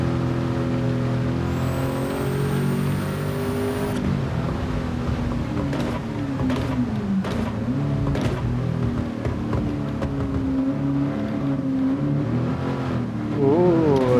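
A race car accelerating on a wet track in Gran Turismo 7, its engine droning steadily and rising through the gears with pitch swoops at each shift, loud and close, with a faint high whine early on.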